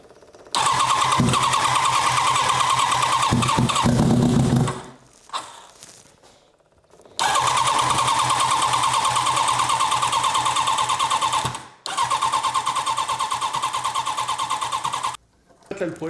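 H2R Wish turbo drag motorcycle engine cranking and firing after flooding with fuel, loud and close, a steady buzzing run in three bursts separated by short gaps, with people talking around it.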